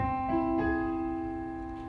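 An augmented piano chord sounds with notes added in quick succession, then sustains and gently fades, played alone at moderate volume.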